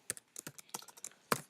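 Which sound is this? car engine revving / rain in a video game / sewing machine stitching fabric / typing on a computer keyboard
typing on a computer keyboard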